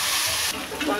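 Ginger garlic paste frying in a pan, a steady close hiss and sizzle throughout that eases briefly in the middle before returning.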